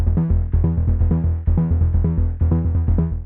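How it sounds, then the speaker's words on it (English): A punchy synth bass sequence processed through the United Plugins FireCharger exciter pulses in quick, rhythmic notes, bright and upfront, with the pattern restarting in short repeating phrases. "Let's kick things off with the bass line."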